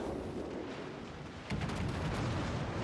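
A torpedo hit explodes in the naval battle game World of Warships: Legends, a low rumbling blast that swells suddenly partway through over continuous broadband battle noise, moderately loud with no voices.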